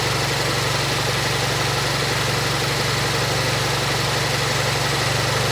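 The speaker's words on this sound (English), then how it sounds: "it's idling pretty normal" A Volkswagen MK7 GTI engine idles steadily and close up, a constant low rumble with an even hum and no voices.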